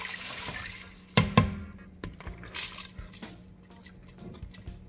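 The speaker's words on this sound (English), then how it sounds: "We're just throwing everything in the pot." Chopped onions, garlic and a jalapeño pepper tossed into a cooking pot for pinto beans, giving two sharp clattering knocks near the start, then softer scattered thuds, scrapes and rattles of metal and food close by.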